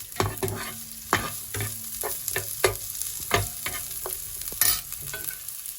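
Calamari sizzles in a hot pan during a short fry, left pale for a rice and shrimp stuffing. Close stirring clatters come in irregular bursts over a steady low crackle.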